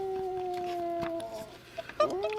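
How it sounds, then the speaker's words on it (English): A dog howls in a long, steady tone that fades out, followed by a few short yips and whimpers, moderately close and without talking. "It's a dog."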